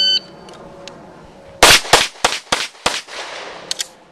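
Pistol gunshots at a USPSA practical shooting match: a start-timer beep, then a rapid string of about eight sharp, loud shots in uneven bursts, close by and without talk.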